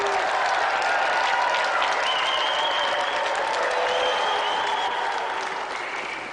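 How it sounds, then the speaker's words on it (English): Studio audience applause on the Games Master TV show, a dense, loud burst of clapping that holds steady for several seconds and then eases slightly at the end. "give a round of applause,"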